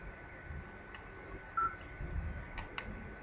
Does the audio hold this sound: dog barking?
no